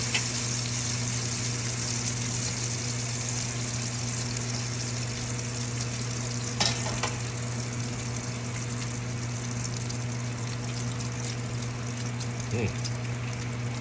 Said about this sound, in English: Now we got our French toast cooking right.